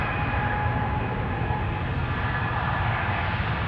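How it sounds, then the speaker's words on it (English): A Delta Airlines Airbus A330neo on flight 143 to Seattle taking off from Amsterdam Schiphol Airport, giving a steady loud jet engine roar that holds constant throughout. "Not yet very high in the sky, but Delta Airlines Flight 143 is going."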